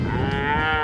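A single cow in rural Kewaunee County, Wisconsin farm country moos loudly and close, one sustained low bellow filling the whole moment with no voices.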